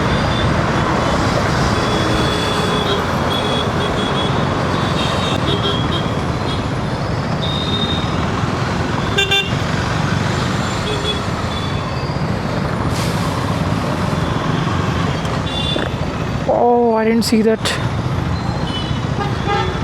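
Busy Indian road traffic on the commute to an office, with steady engine and road noise, passing cars, trucks and buses, and a couple of short horn toots near the end under a voice talking throughout.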